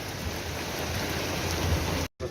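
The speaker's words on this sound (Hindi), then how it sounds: "तो इतना ज़्यादा बारिश है भाई" Heavy rain pours steadily at Jageshwar Dham temple, a dense, loud, continuous hiss of downpour that cuts out abruptly near the end for a brief moment before resuming.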